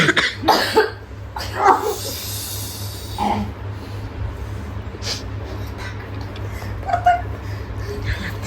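Several sharp coughs burst out close by in quick clusters during the first few seconds, then fade into quieter breathy sounds and scattered short noises over a low steady hum.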